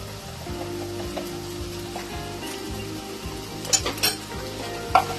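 Ground cumin, coriander and turmeric are stirred into a sizzling pan while making a pointed-gourd korma. A constant sizzle sits under scraping spoon strokes that grow louder and sharper toward the end.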